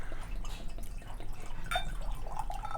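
Uncarbonated stout, aged in an Islay Scotch barrel, is poured straight from the barrel into a glass, giving a close, soft liquid splashing and trickling with small drips, no voices.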